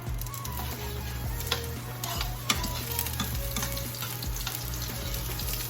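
Onion dropped into hot oil in a pan for chicken mole sizzles steadily up close, with occasional sharp clicks of stirring over a low hum.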